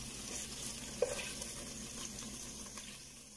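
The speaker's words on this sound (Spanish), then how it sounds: "Cuando vayan a hacer esto de sellar las albondiguitas, yo les sugiero que de una vez utilicen un sartén amplio" Small meatballs sear in a deep frying pan, giving a steady, even sizzle of frying at close range, with a single soft clink near the start and no voices.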